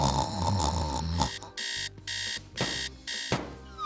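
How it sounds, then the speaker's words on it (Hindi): An alarm clock rings insistently in a bedroom, first a dense jangling tone, then a repeating electronic beeping in regular bursts with short gaps. "अलार्म भी ना ऑफ हो जा"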